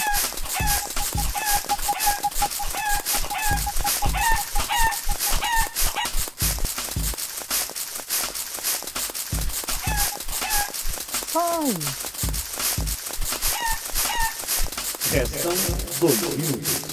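Chickens in the video game Super Egg Hunt cluck and squawk in repeated short calls over continuous game audio, while a player talks throughout.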